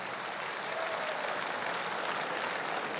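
Audience applause for a guest of honour at a Hindi-language motivational speech event, a steady dense wash of clapping that fills the hall continuously and evenly with no voices over it.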